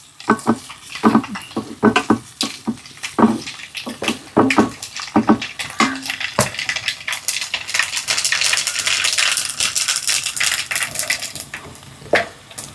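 Mustard seeds crackle and pop in hot coconut oil in a kitchen pan, starting with scattered sharp pops and building into dense, rapid close spluttering.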